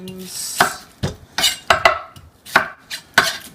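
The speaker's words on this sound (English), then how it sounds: "Now I might be cutting a little fast for some of you guys" Knife chopping onions on a cutting board, about eight sharp, close knocks in an uneven quick rhythm, with no talking over them.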